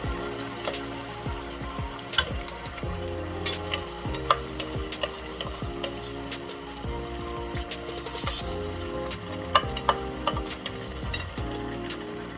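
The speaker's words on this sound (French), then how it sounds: "Et je mélange." Spinach being stirred in a hot frying pan, with repeated utensil scrapes and knocks against the pan over a constant soft sizzle, close and rhythmic, with no voices.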